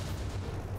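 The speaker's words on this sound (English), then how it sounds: "Alright, just like an explosion, shockwave." A dense, low rumbling blast from a shockwave explosion ability in a Minecraft Demon Slayer mod game, a steady booming roar without a distinct onset.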